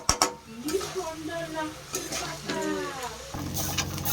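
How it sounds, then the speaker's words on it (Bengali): Rice being stirred in a pan with ginger paste, a steady scraping and stirring close by with a faint sizzle underneath, while a voice talks over it throughout. "এবার চালটা অ্যাড করা হচ্ছে, একটু ভালো করে নেড়ে নেওয়া হচ্ছে।"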